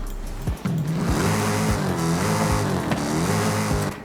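A 6.2 liter V8 engine in a Dodge Magnum SRT8 in the video game Forza Horizon 5 roars loudly and close, revving up and down through several gear shifts with brief dips between pulls.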